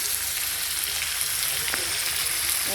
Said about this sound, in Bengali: আলুটা ভাজা হয়ে গেছে, আলু পেঁয়াজটা এই মশলাটা দিয়ে দিলাম